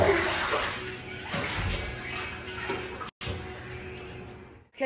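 A young girl washing her little brother in a bath, with close splashing and sloshing water, a brief cutout near the end.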